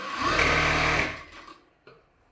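A sewing machine runs in a steady, loud whir while double-stitching a nightie seam, then slows and stops, followed by a brief faint clunk of handling.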